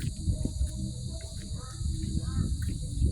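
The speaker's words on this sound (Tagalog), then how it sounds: "May uwak." A crow caws a few times at a golf course club house in the morning, faint and somewhat distant over low outdoor background noise.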